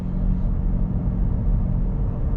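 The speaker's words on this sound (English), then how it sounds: "I'll show you guys just how to come to a complete stop here from 40 miles an hour" An automatic car slowing to a complete stop from 40 mph, heard from inside as a steady low road and engine rumble, fairly loud and even, with no talk.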